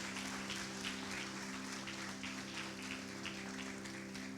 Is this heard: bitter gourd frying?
no